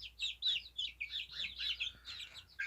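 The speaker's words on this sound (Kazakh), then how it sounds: "тауықтың балапандары. 8 балапаным жүгіріп жүр." Young chicks peep in quick, high-pitched bursts, several overlapping calls close by and fairly soft.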